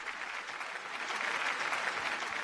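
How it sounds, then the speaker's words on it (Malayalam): A television game show audience claps in a sustained, even burst of applause at moderate loudness, with no voices over it. "നല്ലൊരു കയ്യടി."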